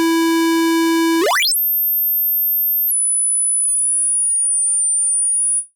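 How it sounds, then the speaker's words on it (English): Synthesized square wave from a Massive X software synthesizer, first a steady buzzy tone rich in harmonics, then a rising sweep into harsh, thin aliased tones that bend up and down and fold back, loud and alone, cutting off at the end. "when a square wave is not properly band limited, you get gnarly aliasing, right?"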